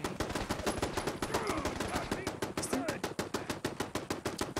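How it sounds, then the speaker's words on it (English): Rapid automatic turret fire in Fallout 4, a steady stream of loud, evenly spaced shots running continuously from start to finish with little pause. "Where's that turret coming from?"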